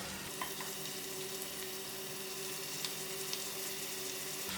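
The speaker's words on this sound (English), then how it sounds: "place in my meat to fry out" Mutton pieces frying out their fat in a pot for a Durban mutton curry give a steady, moderate sizzle with faint crackles and pops, no voices.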